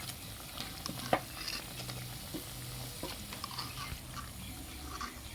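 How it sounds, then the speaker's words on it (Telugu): Mirchi bajji, chili fritters in batter, fry in hot oil with a steady, faint sizzle. Occasional clicks and scrapes of stirring break through, with no talk. "ఈ రెండో వైపు కూడా కలర్ వచ్చేంత వరకు వేపి తీసుకుందామండి"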